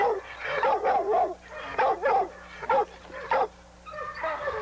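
Dogs barking in bursts in a kennel yard among chained game-bred dogs, several sharp loud woofs and yips spaced across a few seconds with no talk.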